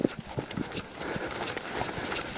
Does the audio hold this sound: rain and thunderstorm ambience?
no